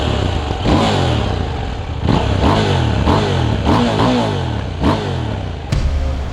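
A Husqvarna Svartpilen 801 motorcycle engine with stock exhaust revs up and down repeatedly, rising and falling in pitch, with clattering mechanical noise and a fairly muted exhaust note.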